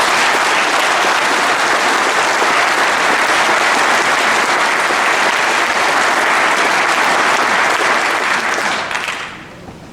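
Dense, loud applause from a large crowd at a farmers' protest rally in London, sustained clapping at an even level for several seconds before quickly dying away.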